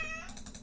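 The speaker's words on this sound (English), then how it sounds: "Oh, that was my cat." A house cat gives a single short, quiet meow close by, with faint background sound and no talking.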